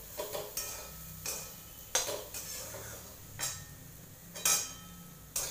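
Spoon clattering and scraping through bitter gourd sabzi in a pan over low heat, a string of sharp metallic knocks spaced irregularly, fairly close, with no talk.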